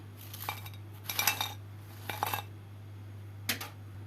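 Crispy fried potato French fries tumble onto a plate in four short, close, crackly clattering bursts with quiet pauses between and a steady low hum underneath; no one speaks.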